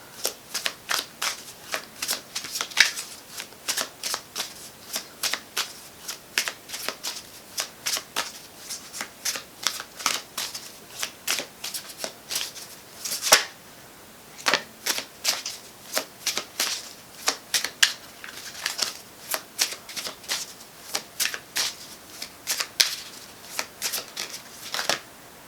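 Tarot cards shuffled over and over at close range, a long series of crisp, rhythmic riffles and slaps repeating steadily with brief pauses, with no talking.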